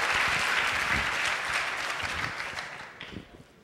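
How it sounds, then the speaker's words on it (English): Steady audience applause at a hackathon finalist presentation, loud and dense at first, then thinning and tapering off toward the end. "Let's give him a round of applause"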